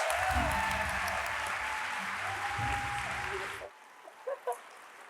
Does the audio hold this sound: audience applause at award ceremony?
yes